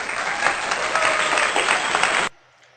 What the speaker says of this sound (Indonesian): tepuk tangan untuk kelompok 1 yang telah menjawab